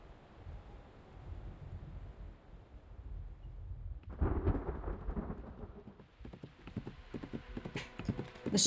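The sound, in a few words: horse galloping through pouring rain with thunder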